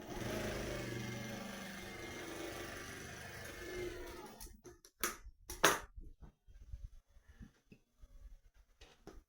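A sewing machine stitching a blouse, running in a steady loud whir for about four seconds, then stopping into a few short bursts and clicks.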